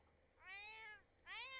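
Two cats meow in The Sims 4 game, each call a clear, drawn-out, rising-and-falling tone; the two calls are separated by a short pause and sound fairly quiet.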